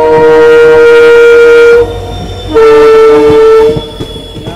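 A Mysore Basava Express train pulling into Belagavi station sounds a loud, sustained horn blast, pauses briefly, then blares a second long blast, with heavy rail rumble and clanking wheels underneath.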